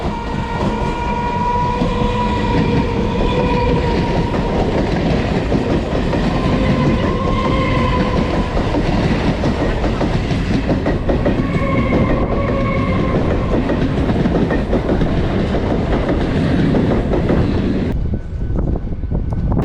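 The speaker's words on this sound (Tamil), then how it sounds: "அடுத்ததா ட்ரெயின் இப்போ போயிட்டு இருக்கிறது தாங்க தாம்பரம் ரயில்வே ஸ்டேஷன்." A moving Chennai suburban train near Tambaram rumbles steadily and loudly with rattling carriages and rolling wheel noise throughout, heard from on board or close by, the roar easing slightly at the very end.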